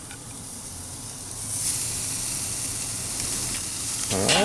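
Burgers sizzle on a Member's Mark kettle grill heated to about 350 degrees, a steady, close hiss that swells as the patties go down, with a faint voice near the end.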